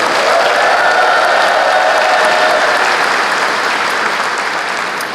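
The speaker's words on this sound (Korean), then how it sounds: "뜨거운 박수 부탁드립니다" Loud, dense applause from a large crowd at a political campaign rally, sustained clapping without a break from start to finish.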